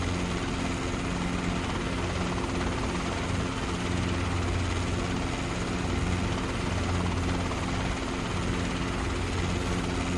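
A Robinson R22 helicopter in the CowanSim flight simulator game drones with a loud, steady engine and rotor roar that fills the whole stretch without a break.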